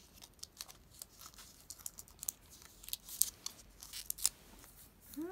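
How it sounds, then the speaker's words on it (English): Scissors cut out paper clippings to fit an iPhone case. Scattered snips and light paper rustles sound quietly and close by, growing a little busier toward the end. "Cut the bottom holes too."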